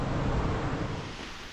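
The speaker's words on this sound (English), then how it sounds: "that is rain falling" Rain falls outdoors on a Friday morning, a soft, even hiss of steady patter that stays fairly faint and unbroken throughout, with no voices.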